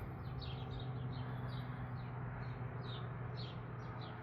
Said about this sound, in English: There goes a old bird that had something.